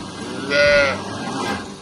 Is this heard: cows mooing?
yes